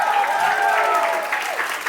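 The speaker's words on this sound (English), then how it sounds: "I think you can have one big round of applause for the lady who's put it all together" Audience applause at a reunion event, a steady bed of clapping with a voice or tonal sound running over it near the start, fairly loud and close throughout.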